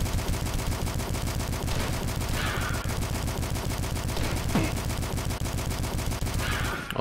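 Rapid gunfire in the video game Dusk, loud and continuous bursts of shots with heavy low-end thump throughout, a few brief enemy noises mixed in.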